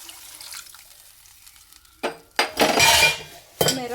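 Water poured into a pan of cooking food, a few sharp metallic clanks of utensils followed by a rushing splash and hiss, close and loud, with no talk.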